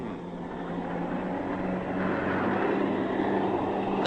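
Jet planes roar overhead with a steady, broad engine drone that swells slightly louder over a few seconds, sustained and fairly distant.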